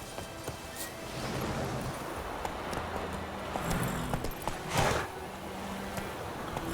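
Roach the horse gallops in The Witcher 3, a steady clip-clop of hooves over a windy outdoor bed of noise, moderately close and continuous, with a louder swell near the end.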